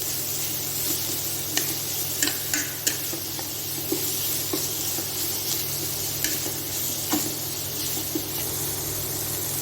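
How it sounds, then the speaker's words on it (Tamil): Tomato, onion and cabbage frying in a pan, a continuous bright sizzle with a steady low hum beneath and scattered scraping taps from a spoon stirring at close range. "முட்டைக்கோஸ் ஆட் பண்ணதுக்கப்புறமா ஒரு நல்ல கிளறி விட்டுலாங்க."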